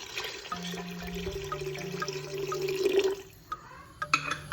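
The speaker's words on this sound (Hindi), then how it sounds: "इसमें पानी ऐड कर लेंगे।" Water pours into a pot of cooked kidney beans, a steady, close trickling stream with a rising gurgling tone, followed by a few faint clinks and drips as the pouring stops.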